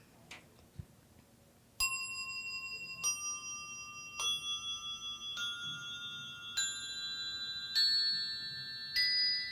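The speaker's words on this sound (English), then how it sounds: "So again, we'll start by checking our bells." Several Montessori bells ring one after another, each clear metallic tone struck and left to ring out, stepping up the scale through different pitches in a quiet classroom.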